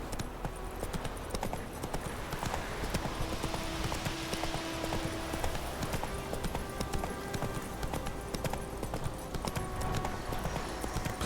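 The horse Roach gallops in The Witcher 3, with rapid rhythmic hoofbeats pounding steadily over an outdoor game soundscape throughout, fairly faint and continuous.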